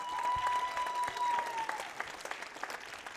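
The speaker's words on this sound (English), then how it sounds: "Why don't we give a round of applause for all these seniors?" Applause breaks out for the seniors at a school evening concert, a soft, distant crowd clapping that starts under a lingering sustained tone and thins toward the end.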